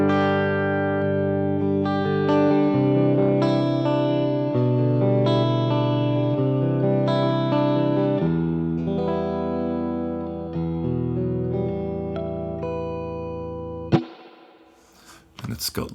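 Electric guitar played through an AmpliTube 5 Fender Clean Champ amp simulation rings out in clean sustained chords and notes, fairly loud and alone, ending with a sharp bump and brief noise.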